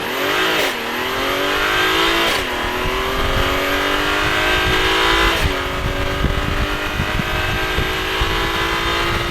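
A Toyota Supra sports car engine pulls hard in sport mode and climbs in pitch, with brief dips at gear shifts, loud and continuous with road noise underneath, on an open road.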